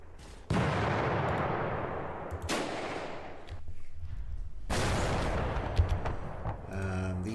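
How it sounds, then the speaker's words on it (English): Mortar fire in the wargame Panzer Campaigns Kiev '43: three loud, separate blasts, each followed by a long roaring decay, with a quieter stretch between the second and third. "He's firing at me with these mortars"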